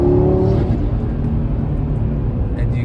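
A 2018 Audi RS3 accelerating hard, heard from inside the cabin: a loud, steady low engine drone with rising harmonics as it pulls through the gear, continuous throughout.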